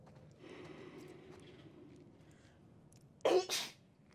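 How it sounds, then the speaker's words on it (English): A single sharp human sneeze bursts out near the end, loud and close, after a few seconds of quiet room tone with a faint steady hum. "I need to sneeze."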